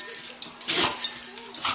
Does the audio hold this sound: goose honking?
no